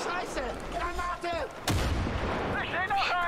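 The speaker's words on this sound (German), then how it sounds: "Oh Scheiße! Granate!" A grenade explosion in the video game Far Cry 5, a single sharp blast midway through, surrounded by rapid game sound effects and a voice talking.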